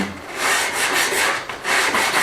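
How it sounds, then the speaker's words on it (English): Sandpaper rubs back and forth over the edges of old wooden doors in quick, rhythmic strokes, close and fairly loud, with no voices. "I'm just going to give the edges a very light sanding"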